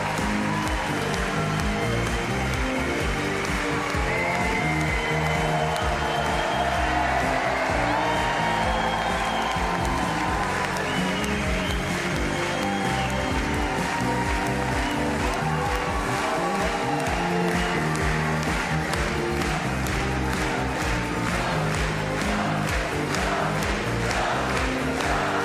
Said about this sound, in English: Crowd still geeing up the winner.